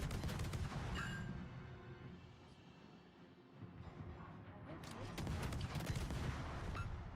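Warship guns boom in the naval combat game World of Warships, heard as dense volleys of low, rumbling blasts with crackling bursts that come and go over a continuous background drone.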